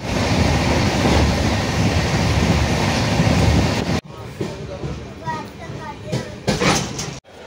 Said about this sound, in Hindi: और हमारे पैरेलल एक ट्रेन चल रही है।